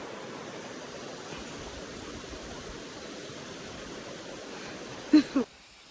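A river flowing beneath a bridge, a soft, continuous wash of rushing water heard from above, steady throughout, ending with two brief louder knocks before it cuts off.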